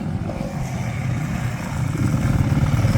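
A new 2023 Yamaha WR 250 motorcycle engine idles close by with a low, throbbing burble that swells slightly louder toward the end, with no talk over it.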